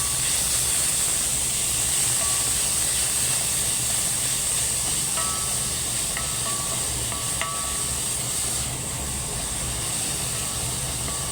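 Minced beef fries in a pan for Filipino fiesta-style spaghetti, giving a steady, close sizzle and hiss that runs unbroken for about eleven seconds, with faint clinks now and then.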